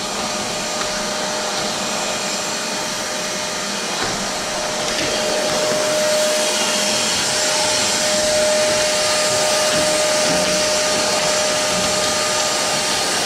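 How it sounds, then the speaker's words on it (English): A vacuum cleaner runs steadily throughout while someone cleans walls and high spots, a loud constant whine with a fixed tonal hum and no talking over it. "I think even with the vacuum cleaner on, when the camera is this close, you can probably hear some stuff"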